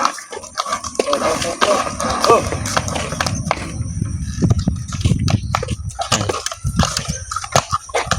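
Horse hooves clip-clop in an uneven rhythm on a hard surface as a hauling horse is turned while carrying coconut lumber, with a busy outdoor background and scattered voices nearby.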